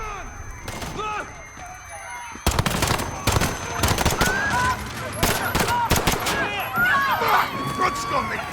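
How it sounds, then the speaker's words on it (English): Rapid bursts of automatic gunfire and single shots in a Call of Duty: Modern Warfare police raid mission set at Piccadilly Circus, London, loud and close, with shouted voices and crowd noise mixed among the shots. "Shots fired."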